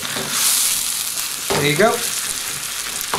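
Onions fry in a pan for a Ruby egg bhuna with a constant close sizzle, while someone speaks briefly partway through.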